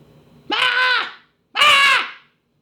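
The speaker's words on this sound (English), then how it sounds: "A succession of loud and shrill screams bursting from the throat of the chained form seemed to thrust me violently back." Two loud, shrill screams burst from a chained man walled behind masonry, each a sustained, piercing cry of under a second, separated by a short silence.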